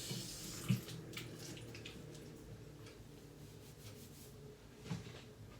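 Water running from a tap while hair is washed at home, a faint steady flow with a couple of soft knocks from handling.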